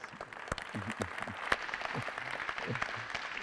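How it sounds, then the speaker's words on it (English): Applause from a seated audience at a business pitch event in Ghana: a moderate, fairly close patter of clapping lasting a few seconds, with a few sharper individual claps and low murmuring voices beneath. "let's really thank God and just clap for these beautiful Ghanaians"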